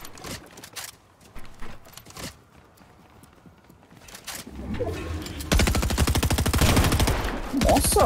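Rapid bursts of gunfire crackle in quick succession, growing louder and denser toward the end, over faint background noise.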